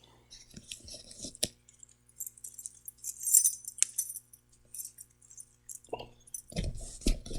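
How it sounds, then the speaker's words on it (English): A bunch of keys lifted off from around someone's neck, giving small metallic jingles and clinks in scattered bursts with quiet gaps between, close by, ending in heavier rustling handling noise. "Taking my keys away around from my neck."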